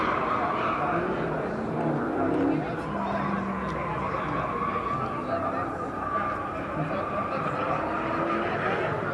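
Tires squeal from a Dodge car at a Dodge gathering, a sustained screeching whine layered over engine rumble and crowd noise, heard at moderate distance with people talking throughout.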